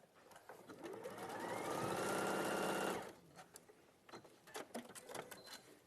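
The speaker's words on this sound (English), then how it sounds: "I'm just going to sew the top section together." A sewing machine stitches fabric pieces together in a close, loud whirring run of about two seconds, then stops, followed by lighter clicks and handling sounds.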